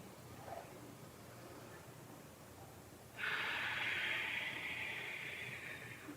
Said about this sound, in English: Begin to deepen your breath.